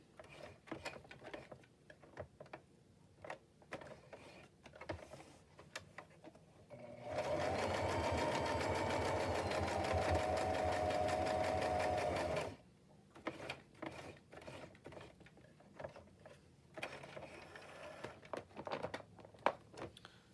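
A sewing machine stitches patchwork fabric tags in one steady, loud whirring run of about five seconds, framed by quieter clicks and handling noises before and after.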